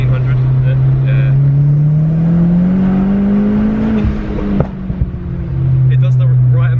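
A modified car's engine revs loudly and steadily with a rising drone, followed by a sharp crackle of exhaust pops near the end, then settles back to a rumbling idle.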